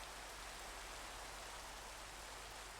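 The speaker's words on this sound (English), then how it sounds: "Oh, and it's raining." Rain falls in Minecraft as a constant, dense hiss with no breaks, quiet and even throughout, with no voices over it.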